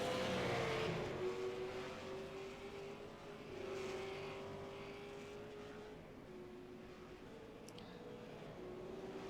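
V8 Supercars race cars lapping a circuit, their engine drone heard faint and distant as a steady whine shifting in pitch, with a broad wash of crowd and track ambience throughout.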